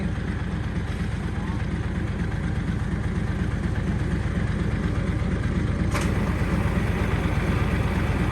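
A vehicle engine runs steadily as it is driven down off a lift or ramp, a continuous low rumble that stays loud and even throughout with no break.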